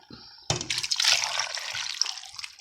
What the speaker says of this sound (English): now I'm going to add some water to it.